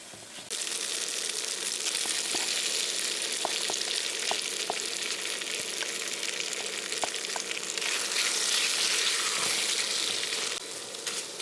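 Thin slices of steak fry in a hot pan with bok choy, a loud, continuous sizzle punctuated by small clicks and taps as the meat is stirred and separated; no one speaks.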